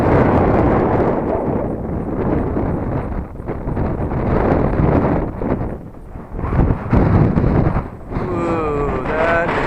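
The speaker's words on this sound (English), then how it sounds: "Ooh, that is some gust" Strong outdoor wind gusts buffet the microphone during high winds while a brushless Eachine Mini P47 Bubble Top RC plane flies. A loud, continuous low rumble surges and dips throughout, with a thin motor whine rising near the end.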